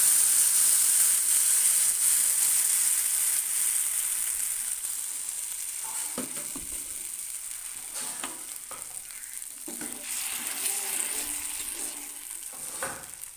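A ground spice paste hits hot oil for shahi paneer, starting in a loud, bright sizzle that slowly settles into softer frying while a spoon scrapes and stirs the pan.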